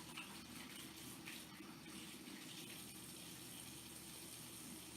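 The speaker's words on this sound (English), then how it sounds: "Turning my water on cool." Cool water runs from a kitchen tap while a turkey is being prepared, a soft, steady gushing hiss that holds evenly throughout, faint and alone with no voices.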